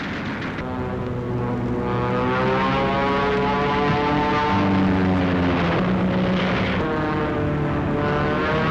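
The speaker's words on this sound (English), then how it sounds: "And here come two Thunderbolts." Two P-47 Thunderbolt fighter planes flying overhead, their piston engines droning loudly with a harmonic whine that rises and falls as they pass close by, steady and strong throughout.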